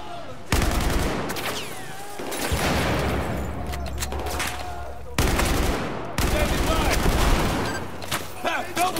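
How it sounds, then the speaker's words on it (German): Grenade blasts and gunfire in Battlefield 4: several loud explosions with rumbling tails, dense machine-gun bursts and scattered shots in between, up close and intense throughout. "Dann grüßt man die mal ganz herzlich mit ein paar Granaten"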